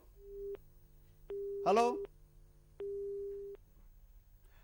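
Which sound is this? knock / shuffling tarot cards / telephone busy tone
telephone busy tone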